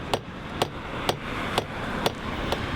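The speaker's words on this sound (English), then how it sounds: "Just keep hammering towards there." A jeweler hammers metal at a workbench, six evenly spaced sharp strikes about half a second apart, ringing clearly over a low steady background hiss.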